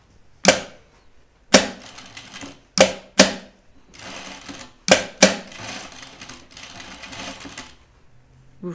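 A sewing machine stitches a plush guinea pig toy in short bursts, with sharp loud clatters separated by pauses and a few longer runs of steady whirring.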